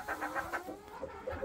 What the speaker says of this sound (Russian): Это вот та курочка, которая водила цыплят.